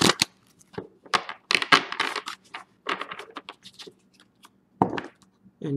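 Hand-shuffled tarot deck, crisp repeated card slaps and riffles in uneven bursts, close and fairly sharp, with brief pauses between handfuls.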